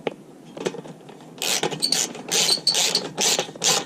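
A ratchet wrench turns a bolt on a car exhaust, a few soft clicks followed by rapid, rhythmic bursts of close, bright ratcheting, each stroke a quick burst of metallic clicking.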